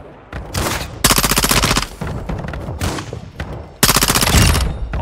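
Automatic gunfire from Call of Duty Modern Warfare Warzone DMZ on the Vondel map, loud close bursts of rapid shots in several sustained volleys separated by brief gaps, with battlefield noise between them.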